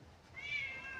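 An indoor house cat lets out a single faint, drawn-out meow, with no one talking.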